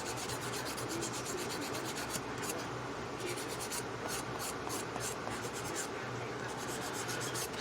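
Rapid back-and-forth rasping of a file and buffer across an acrylic nail, a steady stream of quick scratchy strokes that continues throughout, close and fairly loud with no talking.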